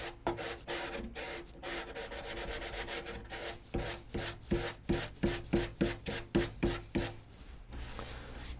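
Wood being hand-sanded with 180-grit sandpaper: a run of quick, rhythmic rasping strokes, close and fairly quiet, speeding up into a steady back-and-forth pattern before trailing off.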